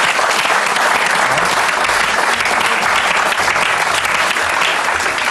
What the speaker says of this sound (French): On peut l'applaudir malgré tout.